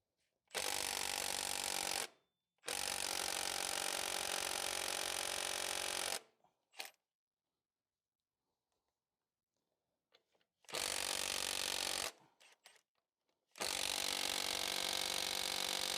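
An impact wrench works on the 19 mm crank pulley bolt of a 2009 Pontiac Vibe GT 2.4, firing four loud, close, sustained hammering bursts separated by near-silent pauses.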